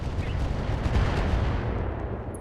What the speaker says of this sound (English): We'll lob a few LRMs over at the Goliath here. Firing on target.